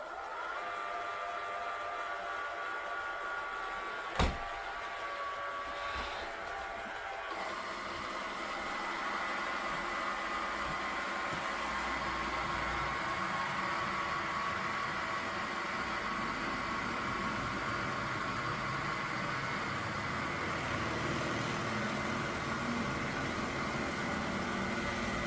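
An Ecovacs T10 OMNI robot vacuum runs in combined vacuum and mopping mode, giving a steady whirring hum and broadband motor noise that holds at an even level throughout, with a brief click near the start.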